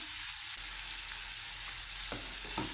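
Onions frying in a pan with a spoonful of turmeric added, a steady soft sizzle running throughout with a couple of light stirring knocks near the end, no voices.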